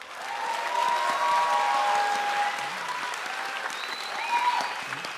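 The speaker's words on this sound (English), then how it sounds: "Let's give 5C a round of applause." Sustained applause from an audience at a Grade 5 elementary school promotion ceremony after a class is called, steady and fairly loud for several seconds, with a brief swell near the end.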